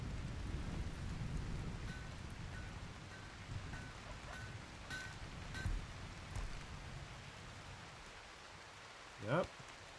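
Rain falls in the Rimworld video game as a faint, steady patter with a soft low rumble underneath.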